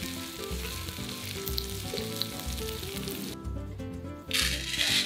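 Galangal, bay leaves, lime leaves and lemongrass sauté in a hot pan, giving a steady close sizzle with light stirring throughout and a louder burst of frying near the end.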